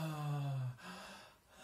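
A person imitates desperate breathing: a drawn-out, strained voiced gasp followed by fainter breathy exhalations, close and alone.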